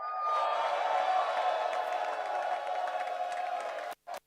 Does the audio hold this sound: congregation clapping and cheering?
yes